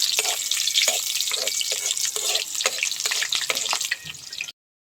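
Garlic and onion sauté in a pan for a sotanghon noodle soup, a loud close sizzle broken by repeated clinks and scrapes of stirring, ending abruptly.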